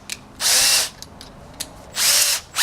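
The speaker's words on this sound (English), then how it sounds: "Use this countersink to countersink the screw holes." A drill with a countersink bit bores into screw holes in a workshop, giving two short, loud whirring bursts with brief pauses and small taps in between.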